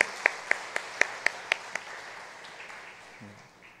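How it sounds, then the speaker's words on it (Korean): In a church service, a few sharp, evenly spaced claps ring out near the start in a slow, regular rhythm, then stop, leaving a quiet room with only faint murmur. "우리 박수 한 번 더 보내드리도록 하겠습니다"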